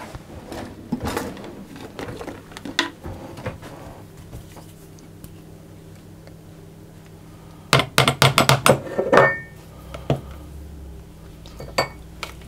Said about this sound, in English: And then I'm going to stir those together.